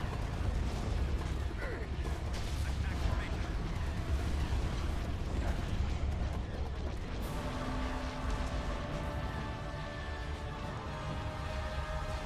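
Star Wars video game space battle between starship fleets, with dense rumbling weapons fire and explosions in a continuous din, under occasional talk.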